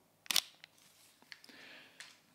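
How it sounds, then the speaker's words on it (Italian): Mechanical shutter of a Sony APS-C camera firing: one sharp, loud clack followed by several fainter clicks and handling noises, heard close up in a quiet room with no talk. "Potete capire che l'otturatore della Sony è molto più rumoroso di quello della Fuji."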